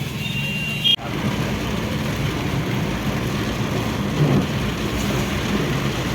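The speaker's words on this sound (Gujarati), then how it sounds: "અત્યારે બહુ જોરદારથી વરસાદ ચાલુ થઈ ગયો છે અહીંયા ગોધરામાં." Heavy rain pours down in Godhra, a dense, steady roar that fills the whole stretch after a brief cut near the start.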